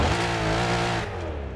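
A 2024 Corvette E-Ray in Forza Horizon 5 idles with a loud, dense engine hum and strong low harmonics, then the tone drops slightly as it settles, with no talking over it.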